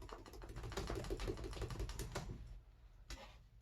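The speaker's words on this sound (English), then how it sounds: "Trying to type." Someone types quickly on a computer keyboard, a close flurry of soft clicking keystrokes that slows to a pause and then a couple of last taps.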